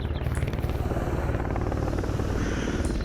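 Mi-24 attack helicopter in the Stalker Anomaly game, a loud, steady rotor thump and engine drone close by, continuous for a few seconds with no talk.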